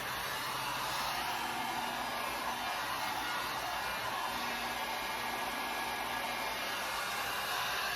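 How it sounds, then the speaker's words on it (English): A heat gun blows continuously while drying gel art ink, giving a close, steady airy roar with a faint whine that holds unchanged throughout, with no speech. "I am going to go ahead and hit it with a heat gun so I can continue to finish off my project"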